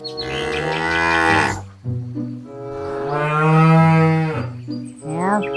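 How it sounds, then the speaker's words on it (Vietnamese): A cow moos in two long, loud, close calls, with a shorter rising call starting at the end; no one talks. "là một con bò các bạn ơi"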